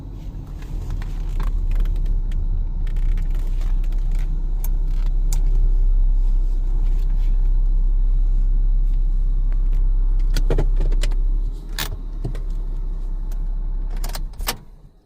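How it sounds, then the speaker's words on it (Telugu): A car engine idles with a low steady rumble while the car is parked, then it drops near the end among small clicks and thumps of doors or controls, with no talking. "ఇక్కడ బండి పార్క్ చేసుకుందాం"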